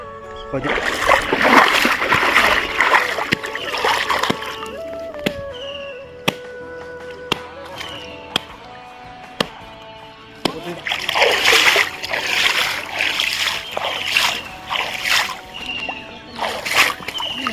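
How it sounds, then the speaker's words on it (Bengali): Water splashing in a pond as someone bathes, with loud bursts of churning splashes at the start and end and quieter sloshing and drips between. A voice can be heard at times. "অনেকদিন পর পুকুরে স্নান করতে যাচ্ছি"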